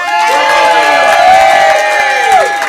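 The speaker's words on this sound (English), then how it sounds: "Give a big round of applause for Eddie!" Crowd at an open mic comedy night cheering and whooping for a performer named Eddie, loud and sustained with high shouts rising over the noise, a voice or two audible within the din.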